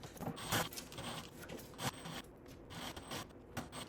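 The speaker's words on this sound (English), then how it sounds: "I'm just gonna take a flat head in here and pry it apart as I unscrew" Close, faint scraping and rubbing of a flat-head screwdriver prying and turning a stubborn bolt on a Ferrari F430 front bumper, with short gritty metal scrapes and brief louder bursts.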